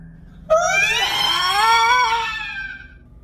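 A single loud, high scream starts abruptly and holds for over two seconds, wavering slightly before fading out, with no talking around it.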